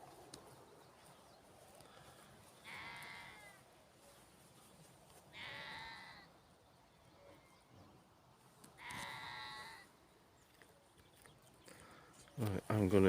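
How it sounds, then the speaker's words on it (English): A goat or sheep near a campsite in the Peak District gives three bleats a few seconds apart, moderately close, with quiet outdoor ambience and a closer rustle or handling noise at the end. "I'm not sure if you're a goat or a sheep."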